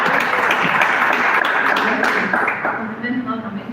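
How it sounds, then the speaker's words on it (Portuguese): Church congregation clapping together in a dense, steady burst, loud and close, thinning out toward the end. "Receber o mandamento com palmas."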